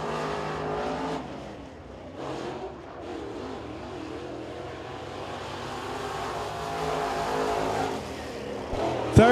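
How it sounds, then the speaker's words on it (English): A crate late model race car at Crossville Speedway runs a qualifying lap, its engine rising and falling at a distance as it circles the track, then growing louder near the end. "Next car to qualify, this is the number 11 of Lee Gray."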